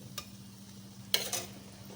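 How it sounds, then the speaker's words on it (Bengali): Aubergine pieces for achari begun simmer in a thick, clingy spiced gravy, a quiet steady bubbling broken by a couple of brief spoon scrapes against the pan, faint and close. "এবার ঝোলের সঙ্গে বেগুনটাকে ভালো করে ফুটিয়ে নেব।"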